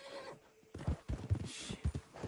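A horse in a western video game clops its hooves in a few uneven, close beats after a brief whinny, with quiet gaps between steps.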